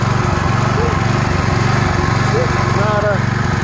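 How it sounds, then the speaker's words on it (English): Predator small engine running on a Tonco propane carburetor, a steady close mechanical drone with small shifts in pitch as the RPM changes, continuous and fairly loud. "what's really fascinating about this carburetor is it does respond to different RPM very well, as you can hear"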